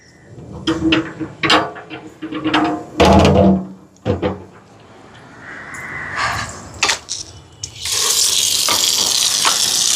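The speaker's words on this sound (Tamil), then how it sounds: "இப்போ தண்ணியை உலக்கி தேவையான அளவுக்கு எடுப்போமா" Outdoors in hot sun, water is scooped and poured for cooking a chicken meal given as alms. Clattering and scooping knocks come first, then a steady, loud rush of poured water fills the last seconds.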